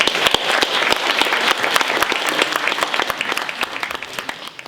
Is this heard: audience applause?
yes